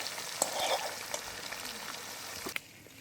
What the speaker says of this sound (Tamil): இப்போ மிஞ்சதை நாங்கள் போட்டு பொரிச்சு எடுப்போம்